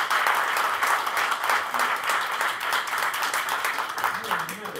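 Applause from an audience during a debate, dense and fairly loud, holding steady for about five seconds with voices faintly mixed in.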